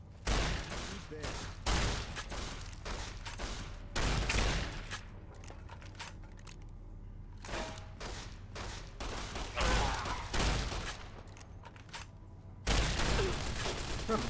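Shotgun fire in the game Fallout: New Vegas, heavy blasts in irregular bursts spaced across the stretch, some closer and louder, with a voice speaking between shots.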